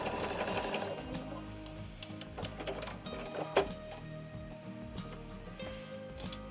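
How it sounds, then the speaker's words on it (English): Sewing machine stitching a quilt medallion seam, a fast continuous mechanical whir with rapid needle clatter, close and fairly quiet, running steadily with a brief louder knock partway through. "I am sewing."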